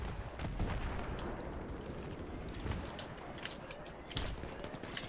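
Battlefield 3 multiplayer gunfire crackles as rapid, irregular shots and bursts over a dense rumbling combat background, with several sharper reports standing out near the middle and end.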